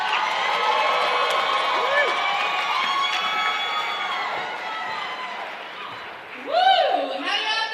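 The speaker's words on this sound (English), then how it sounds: "Please give her a warm round of applause." A comedy-competition audience greets a comedian with cheering and whoops over scattered applause, bright shouted voices rising, then a louder burst of whooping near the end.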